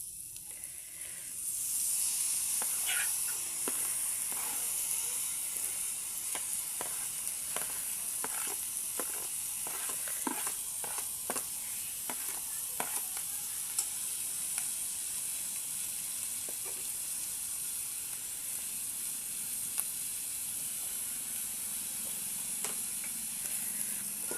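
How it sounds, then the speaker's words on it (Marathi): Prawns and small fish fry in a spice masala in a pan, a steady, close sizzling hiss that starts when they go in, broken by scattered clicks and scrapes of stirring, with no talking. "आता याच्यात आपल्या झिंग्या टाकणार आहोत आणि मासे पण टाकणार आहोत"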